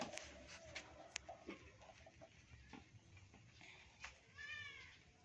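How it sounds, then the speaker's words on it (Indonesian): A kitten meows softly a few times amid outdoor rustling and faint background noise, with one rising, drawn-out cry near the end. "nah ini sudah keluar kucingnya kucingnya keluar"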